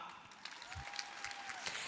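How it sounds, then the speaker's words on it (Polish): An audience applauds at a business event, giving a short, soft wash of scattered clapping from a crowd, fairly faint and continuous, with a brief tone running through the middle. "Brawa!"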